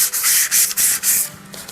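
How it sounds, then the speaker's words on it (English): Light hand sanding of dry primer on a salad bowl being made into a hubcap, a dry scratchy rubbing in quick back-and-forth strokes, close and fairly loud, with no talk. "my primer is dry, so now I have to lightly sand it to provide a key for the top coats"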